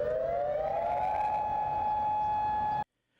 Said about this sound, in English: plus 3 new tornado sirens